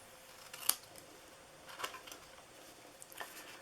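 Scissors make a few quiet, crisp snips into craft material for a popsicle candy box, three separate cuts spaced about a second apart against a faint, still background.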